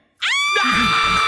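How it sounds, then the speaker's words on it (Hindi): A woman lets out a sudden loud, sustained scream that starts after a brief silence and holds at full strength, close and alone, with a wavering high tone and no talk over it. "चिल्लाऊं?"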